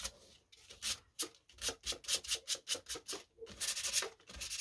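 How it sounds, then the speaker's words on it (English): Rhythmic back-and-forth strokes of sandpaper rubbing a surface, about a dozen quick rasping passes, close and fairly quiet. "I think I'll take my sandpaper and just give that, take the shine off"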